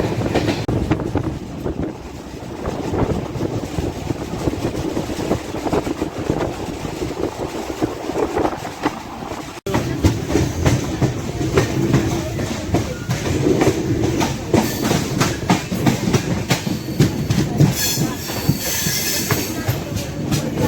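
A train carrying lorries rumbles steadily past up close on the Konkan Railway, wheels clattering and grinding over the rails with wind buffeting the microphone throughout.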